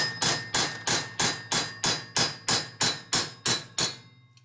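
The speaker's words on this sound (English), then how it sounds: "Somebody was beating on it with a hammer." Ten evenly spaced hammer blows ring out on a 1979 Harley-Davidson Shovelhead engine part, each sharp strike followed by a short ringing decay, close and alone.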